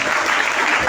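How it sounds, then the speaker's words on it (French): A brief burst of dense applause from a church congregation at a Sunday service, steady and fairly loud throughout. "Est-ce qu'on peut donner encore une forte acclamation pour cette équipe?"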